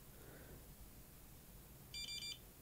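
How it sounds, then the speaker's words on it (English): Three quick electronic beeps from a FlySky FS-i6S radio transmitter's timer alarm ring out in a short burst after a quiet pause, sharp and clear against faint background hiss. "And then that is the alarm."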